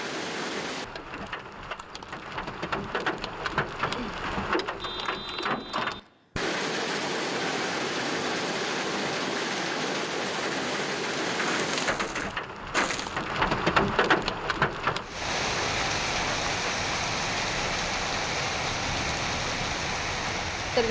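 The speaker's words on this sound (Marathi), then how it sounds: "नागपूर, अमरावती, यवतमाळ आणि वर्धा या जिल्ह्यांमध्ये गारपीटीसह जोरदार पाऊस झालेला आहे" Heavy unseasonal rain with hail pounding down across Vidarbha farmland, a dense loud continuous roar of drops striking surfaces, with one brief cut near the middle.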